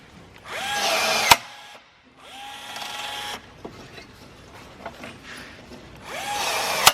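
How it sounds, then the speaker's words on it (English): A power drill bores holes for a deck plate rail in three sustained, whining bursts, each winding up to speed and ending with a sharp click, with a quieter pause in between. "so when you drill the holes, I suppose, it's placed perfectly."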